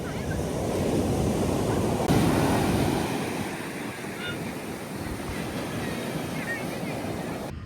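Waves breaking steadily on a beach in Chennai, a continuous loud wash of surf mixed with wind buffeting the microphone, swelling slightly in the first few seconds then holding level.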